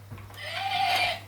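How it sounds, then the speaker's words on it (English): Horse neigh from a button on a toy farm animal play set, a single rising whinny lasting about a second, fairly close and clear with a faint electronic hum beneath. "That's a horse."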